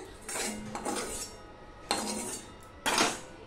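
Metal utensil scraping and clinking against a bowl while scooping cooked prawns, three bursts of scraping with short pauses between, close and fairly loud with no talk.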